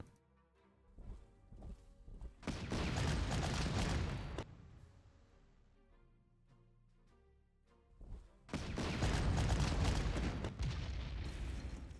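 Artillery fire against an enemy anti-tank gun in the strategy game Panzer Corps, two loud booming volleys with rumbling decay, separated by a quieter stretch of faint game music.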